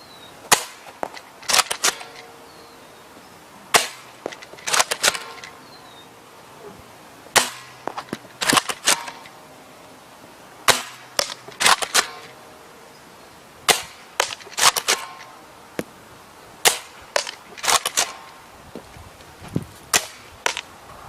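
An MP40 submachine gun fires at a man-sized target about 100 feet away, with sharp single and paired shots spaced irregularly across the stretch, loud and close with no talking.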